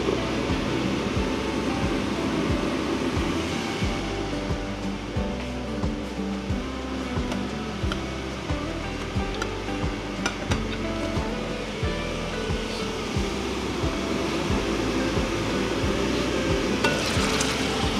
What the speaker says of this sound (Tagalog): ngayon ilagay na natin ang ating carrots para maluto siya ng tuluyan